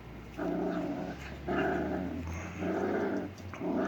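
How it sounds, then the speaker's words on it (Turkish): A stray dog growls in long, low, throaty rumbles, four of them in a row with brief pauses between, close to the listener. "Böyle sokak köpeği çok."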